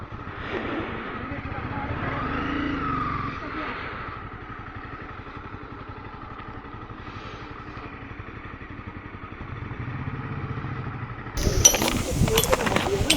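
A motorbike engine runs steadily under talking on a mountain road toward Jot Pass in Himachal Pradesh in early winter, humming throughout, with louder clattering bursts near the end.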